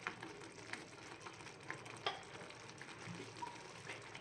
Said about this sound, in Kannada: ಇದು ಅಷ್ಟೇ ಚೆನ್ನಾಗಿ ಒಂದು ಸ್ವಲ್ಪ ಫ್ರೈ ಆಗಲಿ, ಮತ್ತು ಕುದಿ ಬರಬೇಕದು